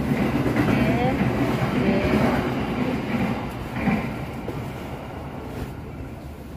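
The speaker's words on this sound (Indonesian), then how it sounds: "kereta api Sri Tanjung diberangkatkan kembali dari stasiun Purwosari di kota Surakarta" Sri Tanjung passenger train pulling out of Purwosari station in Surakarta, a heavy rumbling roll with faint squeals that gradually eases off, with voices murmuring over it.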